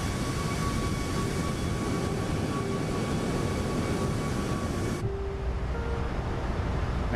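Steady broadband jet engine roar from a Boeing 737 MAX 8 in a flight simulator on a Kuala Lumpur to Jakarta flight, with a constant hum and faint tonal whines, shifting abruptly to a duller tone partway through, with no talk.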